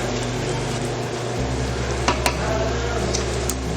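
Turkey sausage fries in a pan with a steady close sizzle, a low hum underneath and a couple of brief scraping stir clicks partway through; no voices.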